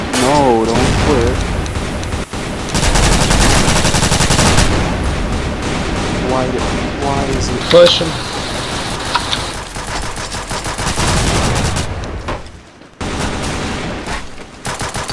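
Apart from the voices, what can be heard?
gunfire in a video game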